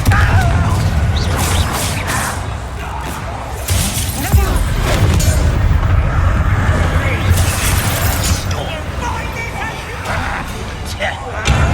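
A Confringo spell blast in Hogwarts Legacy bursts into loud shattering crashes and debris over game effects, with someone talking over the noise.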